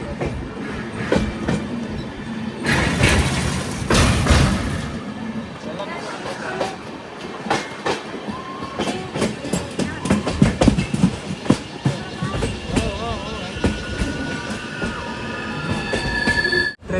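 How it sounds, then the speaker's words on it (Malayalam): Gomteshwara Express on the Bengaluru–Mangaluru line descending a steep hill toward a station, with close rumbling wheels, rhythmic clickety-clack and repeated sharp wheel squeals, loud throughout, with occasional voices underneath. "ട്രെയിനിപ്പോൾ യടുക്കുമാരി എന്നൊരു സ്റ്റേഷനിലേക്ക് എത്തുകയാണ്"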